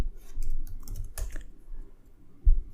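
Quick, light clicks of fingers typing on a computer keyboard, a short burst of keystrokes close by that fades, then one firmer tap at the end.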